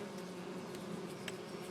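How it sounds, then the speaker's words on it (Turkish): Steady, droning insect buzz of bees in Farming Simulator 25, holding at an even level throughout with a faint click near the end. "biraz fazla arı sesi duyacağız gibi ama"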